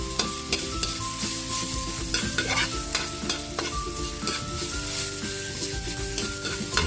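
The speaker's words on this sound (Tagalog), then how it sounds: "Sabay na natin yung ating luya. Sunod na rin natin yung ating bawang." Ginger and garlic stirred in a hot frying pan, with steady oil sizzling throughout and frequent scraping clinks of a utensil against the pan, close and continuous with no talk.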